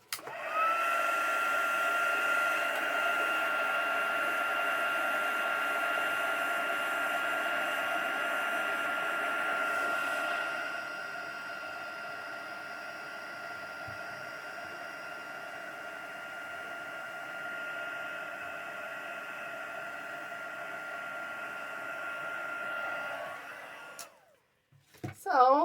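A heat gun blows steadily on embossing powder over a paper flower, a continuous close whooshing hum that lasts long, shifts slightly in pitch partway through, then cuts off near the end.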